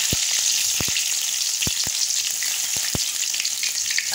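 Ginger and garlic frying in oil for a corn and pomegranate pickle, a loud steady sizzle throughout with a few sharp spoon taps against the pan.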